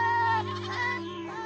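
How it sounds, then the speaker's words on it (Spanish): Goats bleat in a short, wavering, close-up call that holds steady and then breaks into a second quivering cry, with no other sound around it. "Cuando Caldi las encontró, estaban balando y corriendo emocionadas"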